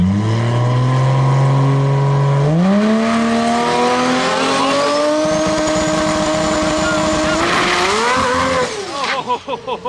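A Toyota Supra race car at a World Cup Finals event accelerates hard, its engine note climbing steadily in loud close-up while the dump valve flutters and chatters as it opens and closes, and tires squeal near the end.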